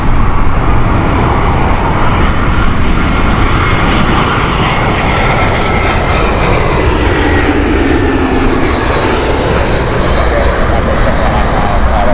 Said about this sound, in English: inbound next is the Glasgow flight from shuttle service BA Shell 7 Bravo with an Airbus A320